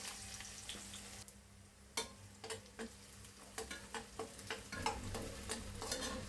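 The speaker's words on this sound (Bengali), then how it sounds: "আমি তেল গোলটা গরম করে নিয়েছি এখন আমি দিয়ে দিব পেঁয়াজ" Onions frying in hot oil in a pan for a Bikrampur-style vegetable bharta, a steady close sizzle broken by repeated sharp scraping clatters of stirring, with no voices.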